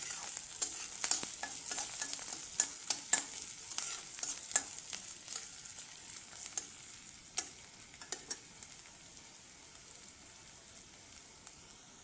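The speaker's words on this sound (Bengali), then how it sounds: "পেঁয়াজ কুচি, পেঁয়াজগুলিকে ভালো করে লাল করে নেব, ভালো মানে অল্প ব্রাউনিশ ব্রাউনিশ।" Chopped onions sizzle in hot oil in a pan as they fry toward light brown for an egg curry, with frequent scraping stirs and clinks over a steady crackling hiss.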